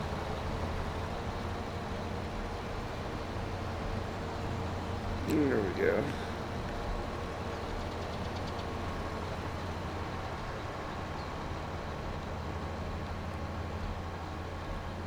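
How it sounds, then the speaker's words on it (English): A lawn tractor engine in Farming Simulator 22 drones at a steady low pitch while mowing, continuous and moderate in level, with someone speaking briefly partway through. "I'll let the lawn tractor do the rest."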